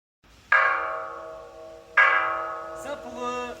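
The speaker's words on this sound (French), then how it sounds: "la cloche, si vous tapez dessus" A Buddhist temple bell is struck twice about a second and a half apart, each blow ringing out with a bright, sustained metallic tone that slowly decays, followed by a softer clink near the end.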